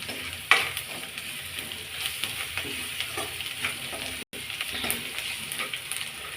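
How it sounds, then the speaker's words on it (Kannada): Onions sizzle and fry with salt in a pan for a black-eyed pea stir-fry, a steady close crackling hiss with occasional stirring scrapes and one brief cut in the sound. "ಈಗ ಈರುಳ್ಳಿ ಎಲ್ಲ ಫ್ರೈ ಆಗಿದೆ. ಎಷ್ಟು ಸಾಲ್ಟ್ ಬೇಕೋ ಅಷ್ಟು ಹಾಕ್ಕೊಂಡು ಫ್ರೈ ಮಾಡಬೇಕು."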